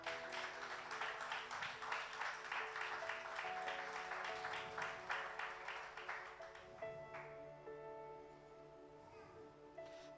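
Church congregation clapping in praise during a Spanish-language sermon, steady rhythmic applause filling the room with sustained tones beneath, easing off and fading toward the end.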